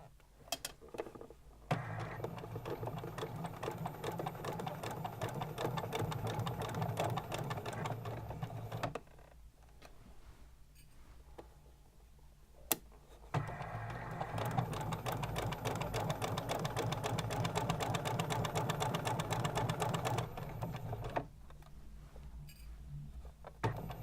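A sewing machine stitches binding onto the slit edge of a garment sleeve, running in long steady bursts with short pauses between them where the needle stops to pivot, close and loud.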